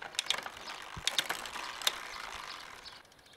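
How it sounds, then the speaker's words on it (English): The rear derailleur of a bicycle shifts toward the biggest sprocket while the pedals turn, giving soft rapid ticking of the freewheel pawls with a few sharper metallic clicks. It is close and fairly quiet, and the ticking fades out near the end. "The next step is to pedal and shift the gears going to the biggest sprocket."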